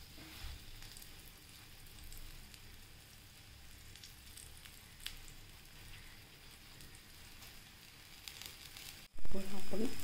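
Aloo paratha sizzles steadily in oil on a hot griddle, a continuous close crackling fry that runs throughout before a sudden louder thump near the end.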